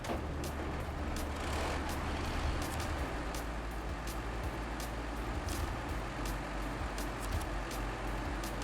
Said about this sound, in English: Oh, I can't. I gotta start the engine.